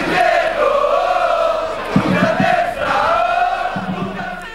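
Crowd of San Giovanni Gemini football fans chanting together at an amateur match against Campofranco, a sustained, rhythmic singing roar, loud and fairly close.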